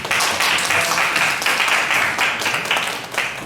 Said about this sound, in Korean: 격려하는 박수하도록 하겠습니다